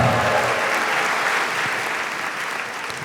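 Audience at a live comedy show applauding, a dense, steady burst of clapping from a crowd that fades slightly toward the end.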